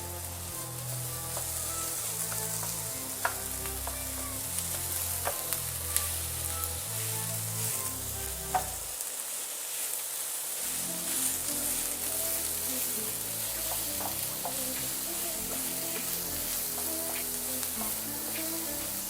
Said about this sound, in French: Et on la met à cuire